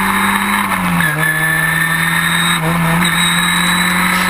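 Historic Formula Ford race cars starting at Silverstone, heard onboard: a loud, steady engine drone with pitch dips at gear changes and other cars roaring close by.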